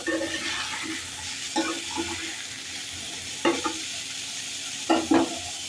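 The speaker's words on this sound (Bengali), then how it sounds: "এবার একটু সয়াবিনটাকে হালকা করে ভেজে নেব" Soybean chunks fry in hot oil in a wok, giving a steady hiss broken by a few short bursts of stirring or spatter.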